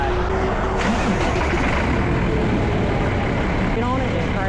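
A truck's diesel engine idles loudly and steadily close by after starting, with a constant low rumble throughout and a voice speaking over it.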